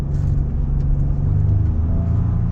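A 2023 Ford F-150 XLT pickup truck accelerating, heard as a steady, close, low engine rumble with a slight whir on top, alone with no voices.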